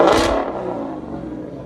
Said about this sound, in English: You just hear straight exhaust, no raspiness.